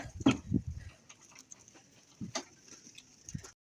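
Scattered calls and clucks from nearby guinea fowl and ducks, a few sharp squawks separated by quieter rustling and pauses.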